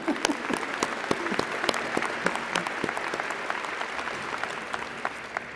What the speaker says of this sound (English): We'll clap for you now